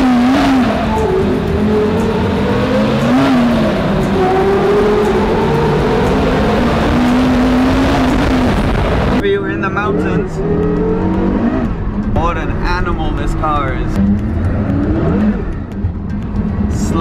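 A Porsche Carrera GT slides and drifts on a mountain road as its engine revs in loud, wavering surges. The note drops back partway through, and a person talks over it.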